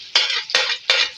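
Three quick scraping strokes of a spoon stirring potato, onion, capsicum and tomato sabzi in a frying pan, close and fairly loud, with no talking.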